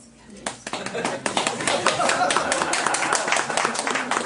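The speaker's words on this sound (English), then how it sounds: "And now please give me applause." An audience at a spiritual talk claps, starting with scattered sharp claps that quickly build into steady, loud group clapping.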